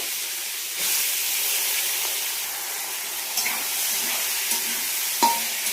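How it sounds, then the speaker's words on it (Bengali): Washed broken wheat (dalia) being stirred in hot tempered oil, giving a steady loud sizzling hiss with occasional scrapes and taps of the spoon against the pan; no talking. "এবার ডালিয়াটাকে দিয়ে একটু নাড়াচাড়া করে নেব"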